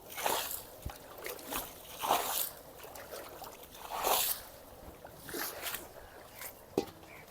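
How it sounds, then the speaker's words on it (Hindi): Water is poured and sloshed into clay mud to soak it, giving quiet splashes and trickles in several separate bursts with soft pauses between them. "इसमें हम पानी डाल देते, इसको भिगो के रख देते हैं"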